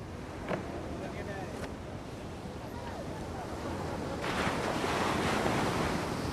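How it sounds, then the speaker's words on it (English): Ocean surf breaks on a beach along India's Coromandel Coast, a broad continuous roar of waves with gusty wind noise, swelling louder toward the end. "To get off the beach, you've got to get through that surf, and that means picking the right wave."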